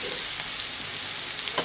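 Chicken curry is stirred as it fries in a pan in a Bengali home kitchen, seasoned with turmeric and salt. A steady close sizzle runs throughout, with faint scraping from the stirring and no talk.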